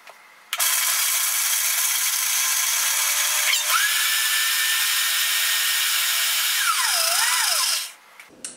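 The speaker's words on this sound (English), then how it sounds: "we'll go ahead and pour the juice in the Vitamix." A Vitamix blender runs steadily on a citrus-juice lemon basil ginger salad dressing, a loud continuous whir holding for about seven seconds, with a brief pitch shift midway and a falling, wavering tone before it stops abruptly.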